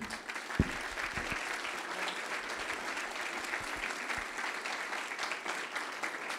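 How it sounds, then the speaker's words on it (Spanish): An audience at a community gathering in Cadereyta applauds two young women honorees, a moderate, continuous patter of clapping with a few louder individual claps near the start. "vamos a rendirles un fuerte aplauso"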